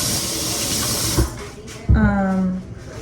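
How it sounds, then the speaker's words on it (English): Peeled potatoes rinsed under running kitchen tap water, a steady hiss of flowing water that breaks off after about a second, followed by a brief clunk and a short tonal squeak or voice-like sound. "Now I'm going to rinse the potatoes."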